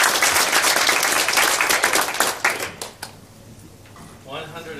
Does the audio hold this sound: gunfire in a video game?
no